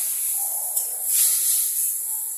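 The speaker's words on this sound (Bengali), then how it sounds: "এবার এখানে ডালটা সেদ্ধ ছিল সেটা আমি দিয়ে দিচ্ছি।" Boiled chana dal hitting hot oil tempered with cardamom, a loud steady sizzling hiss that swells briefly in the middle and carries on alone without talk.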